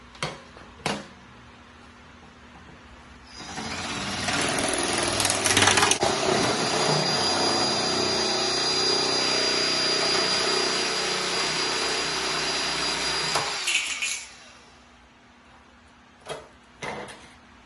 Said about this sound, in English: Here is the Ryobi 18 gauge OnePlus metal shear in action.